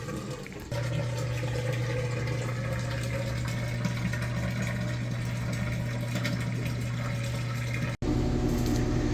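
A washing machine drains water, run from an Ecoflow River Pro power station: a steady pump hum with rushing water starts after a brief quiet moment, holds constant, then cuts briefly before resuming near the end.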